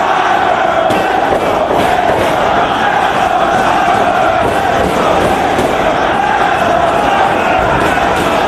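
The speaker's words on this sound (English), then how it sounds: "And there you hear the crowd going nuts" A professional wrestling crowd roars continuously and loudly during an ankle lock, a wall of cheering and yelling with no break.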